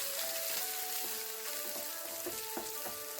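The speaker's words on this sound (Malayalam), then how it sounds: "എണ്ണയെല്ലാം നല്ലതുപോലെ തിളച്ചിട്ടുണ്ട്. അതിലേക്ക് നമുക്ക് 1 ടീസ്പൂൺ കടുകിട്ട് കൊടുക്കാം." Mustard seeds splutter in hot coconut oil with quick crackling pops over a continuous frying sizzle, a short, close burst of spattering.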